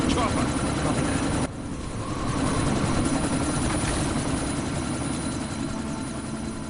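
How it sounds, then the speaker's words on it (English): A helicopter in Deus Ex: Mankind Divided drones steadily with a broad rotor and engine roar, heard through a sandstorm backdrop. It dips briefly in level early on, then holds constant, with voices talking over it. "you need to disable that chopper"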